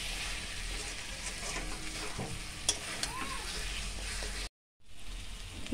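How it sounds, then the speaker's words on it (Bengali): Potatoes stir-fried with masala in a pan for mutton kasa give a steady close sizzle with scraping stirring strokes throughout, broken by a brief silent gap near the end. "আলুটা দিয়ে মশলার সাথে একটু কষিয়ে নেব"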